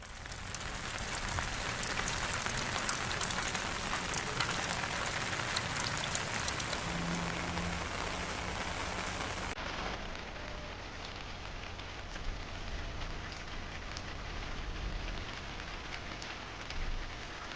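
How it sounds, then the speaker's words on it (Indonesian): Morning rain falling steadily near a rural school road in Indonesia, a dense even hiss of drops on surfaces that continues without pause, fairly close and moderately loud. "Hujan pagi itu"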